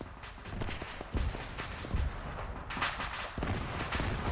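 Dense, continuous battle gunfire in Arma 3 with rapid cracks and heavier booming thuds layered together, loud and unrelenting throughout, no voices.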